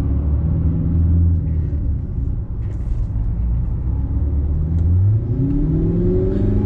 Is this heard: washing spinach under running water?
no